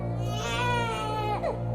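Infant crying from a television in a quiet room at night, a continuous wailing cry with rising and falling pitch over a low steady hum.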